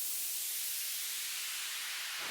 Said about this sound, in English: White noise sweeps.